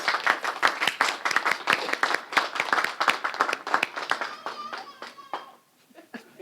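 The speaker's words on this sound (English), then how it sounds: "Please give them a round of applause." Audience applause for parents at an elementary school ceremony, a modest crowd clapping in a crisp patter that thins to scattered claps and fades out, with a voice briefly audible.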